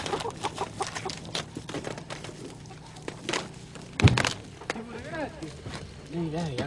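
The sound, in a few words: chickens clucking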